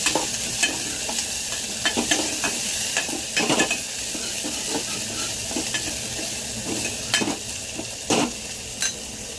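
Steady sizzling and crackling of onions and curry leaves frying in a kadhai, with occasional sharp stirring scrapes and clinks, close up and with no voices.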